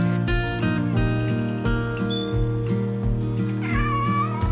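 Deeks the cat meows over steady background music, a few short calls rising above the track.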